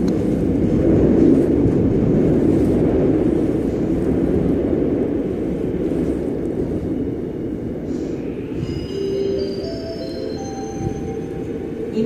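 A Seoul subway train runs steadily at speed, with a loud continuous rumble and rattle of wheels on track and faint rising electric motor whines as it slows, without talk.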